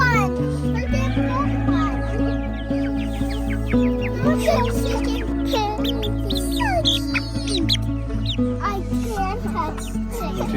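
Chickens on a farm clucking and cackling amid lively background activity, with children's voices and people talking throughout nearly all of it, the birds only intermittently audible beneath the chatter.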